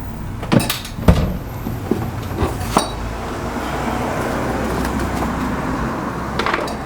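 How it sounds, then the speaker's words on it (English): Tools and spare tire being lifted out of a 2018 Subaru Crosstrek cargo area: a few sharp clanks and knocks early on, then a steady low rumble of background noise. "We're going to remove the tools, remove the spare tire."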